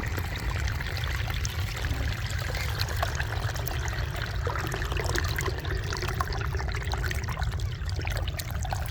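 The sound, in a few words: irrigation water flowing into a wheat field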